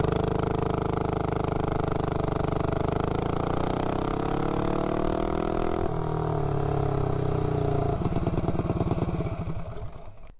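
A minibike engine fitted with a three-foot-long intake manifold revs hard under full throttle, a loud, rising drone that climbs in pitch, drops briefly at a shift, then climbs again before backing off near the end.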